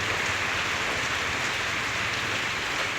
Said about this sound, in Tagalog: Maghapon na po itong umuulan mula pa po kaninang umaga.